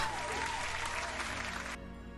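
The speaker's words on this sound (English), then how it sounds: "thanks for helping out the applause" Applause with steady clapping fills most of the moment, then cuts off abruptly, leaving a quieter hum.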